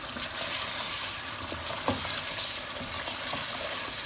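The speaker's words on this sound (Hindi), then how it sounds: "अब इसमें हम ये प्याज डाल देंगे। प्याज शामिल करने के बाद इसको मिक्स करेंगे अच्छी तरह से।" Onions are stirred and fried in a pan while chicken korma cooks, a close, steady sizzle broken by a few spoon scrapes and soft knocks, with no voices.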